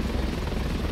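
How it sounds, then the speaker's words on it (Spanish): A helicopter in the video game Ravenfield gives a continuous close, loud rotor chop, a steady rumbling whir heard alone. "Vamos a montar en el helicóptero."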